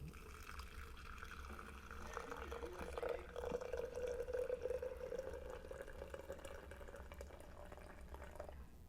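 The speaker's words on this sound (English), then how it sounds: "I'm going to take my hot water here" Hot water poured from a kettle into a coffee brewer, a steady trickling stream lasting several seconds at moderate distance, with a brief splash at the start and faint room noise around it.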